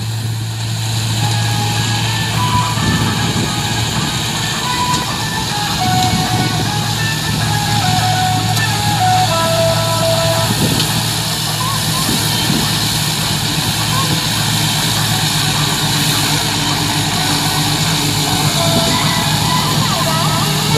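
A Massey Ferguson 385 tractor pulls a wheat chopper in second gear, its engine droning loud and unbroken near the microphone, with a steady mechanical whine layered over the low rumble throughout.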